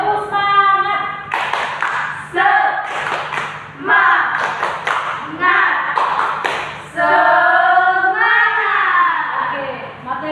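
A school class claps a rhythmic spirit cheer together in a classroom, with loud bursts of patterned clapping mixed with children chanting in unison between the claps.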